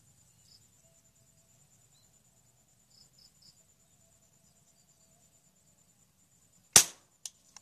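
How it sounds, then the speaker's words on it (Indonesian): A single sharp, loud crack of a Sharp Tiger pump air rifle, pumped four times, firing at a 60m target over faint insect chirping, followed by two quick softer clicks. "tembakan yang keempat mengenai sasaran"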